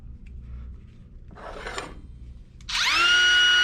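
A battery-operated drill set to speed 5 of 7 starts with a brief rasping burst, then spins up into a loud, steady high-pitched whine that holds to the end.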